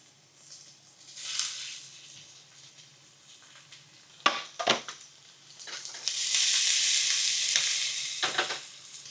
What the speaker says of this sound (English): Hopefully you can hear that sizzle.